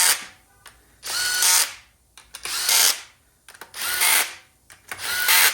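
Impact wrench tightening valve body bolts on a TH400 automatic transmission: four loud rattling bursts about a second each, separated by short pauses with faint clicks, close up.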